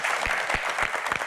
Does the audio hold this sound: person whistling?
no